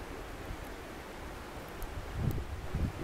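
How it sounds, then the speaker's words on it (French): Strong wind sweeps across an outdoor bivouac area as a broad, steady rush, swelling into louder gusts near the end, with no voices. "à part le vent, hein, qui est fort aujourd'hui"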